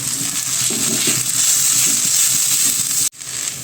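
Turmeric and chili powder sizzle steadily in a hot frying pan while being stirred for a karimeen pearl spot fish dish, loud and close, with soft scraping taps and a brief cut near the end.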